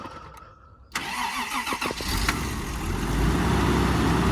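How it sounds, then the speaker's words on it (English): Toyota Supra engine cranked by the starter for about a second, then catching and settling into a steady, fairly loud idle that builds slightly, close by with no talk. "we're about ready to give her a crank over and see if she squeals again"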